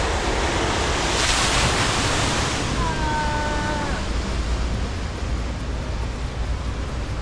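A wave machine churns water in a Monterey Bay Aquarium tank: a loud, steady rush of surging water that continues throughout, with a few faint thin whistles briefly rising near the middle.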